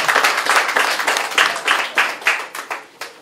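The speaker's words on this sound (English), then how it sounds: "So let's clap for her." Audience at an Edo community party in Athens clapping for a coordinator who stands to be recognised, with distinct, rhythmic bursts of hand claps close by and fairly loud, slowing toward the end.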